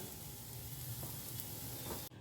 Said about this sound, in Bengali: যে গরম আছে তাওয়াটা, সেই তাওয়ার গরমে কিন্তু ক্যাপসিকামটা হয়ে থাকবে